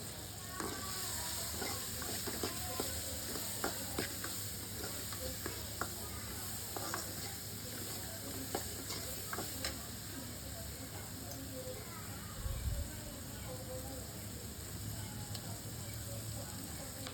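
Vegetables for sambar sautéed and stirred in a pan for a home lunch, with a steady close sizzle and scattered scraping spoon clicks throughout, plus a low hum in the background.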